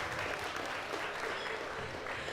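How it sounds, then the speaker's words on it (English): An audience applauds a volunteer coming up to speak, a continuous, even wash of clapping heard at a moderate distance and fairly soft, with no pauses. "Give her a big round of applause."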